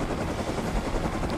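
Helicopter in the Rust video game, a dense, steady whirring rotor roar filling the whole short stretch, loud and continuous with no other sound standing out.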